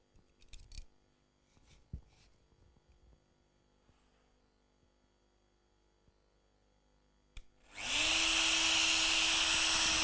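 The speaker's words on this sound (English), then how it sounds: "You can really hear the difference from the spindle when it turns just on the rotation step 3" A CNC spindle fitted with a single-flute cutter starts up after quiet handling knocks, rising into a loud, steady high-pitched whine with a constant tone that holds to the end.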